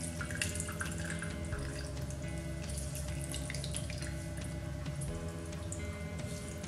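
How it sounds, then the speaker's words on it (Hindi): Water from homemade paneer drains out of a pressed cloth bundle, making a steady, close trickle and splash like running water into a sink that carries on without pause. "जो भी एक्स्ट्रा पानी है हम यहाँ पे निकाल देंगे।"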